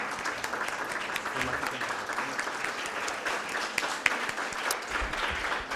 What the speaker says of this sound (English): Loud of applause.